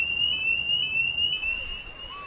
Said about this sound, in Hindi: attention, attention, fire alarm,